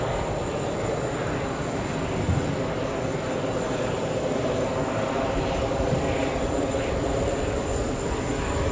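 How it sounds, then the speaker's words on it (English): A JetBlue jet in retro-style livery at JFK gives off a continuous, moderately distant engine drone with a faint high whine on top, holding steady with no clear voices. "We have the fake retro JetBlue."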